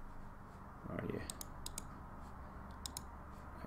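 A few crisp, faint computer mouse clicks come in small clusters at a desk, following a brief spoken phrase.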